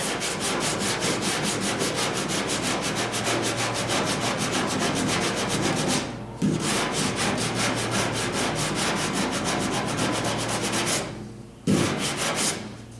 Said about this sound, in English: Our spot putty has cured up, so we'll sand it.